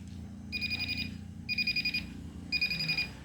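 A budget metal detector pinpointer, priced around 200 thousand rupiah, gives three bursts of rapid high beeping at steady one-second intervals over low background rumble.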